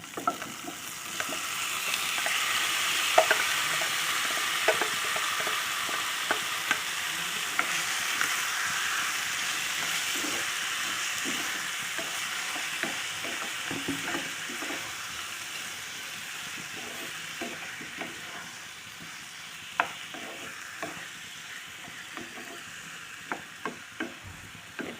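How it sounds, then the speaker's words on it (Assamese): Marinated chicken fries without oil in a nonstick kadai, giving a continuous soft sizzle with scattered light scrapes and clicks from stirring, close and steady throughout. "মই এয়া মেৰিনেট কৰি থোৱা মাংসখিনি এতিয়া ইয়াতে দি দিম।"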